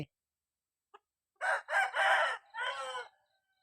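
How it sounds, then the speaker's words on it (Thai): Near and clear on a foggy rural Thai morning, a rooster gives a full multi-part crow. A soft cluck or two comes before it, and the crow trails off into quiet. "ไก่มันตื่นขึ้นมาแล้ว มันก็เขาไปหากินในป่าพี่น้อง"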